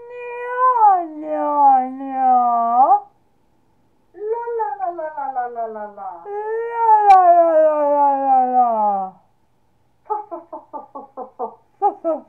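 During a vocal warm-up, a voice imitates a cat with long, wavering meows in several drawn-out phrases, ending in a quick series of short, choppy meow sounds.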